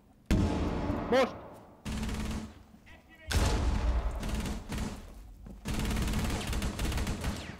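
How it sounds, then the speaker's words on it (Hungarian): Bursts of loud gunfire and explosive blasts in a video game match come in several heavy sections separated by short gaps, with a voice shouting over the action. "Ahogy hallod a robbanást, gyere,"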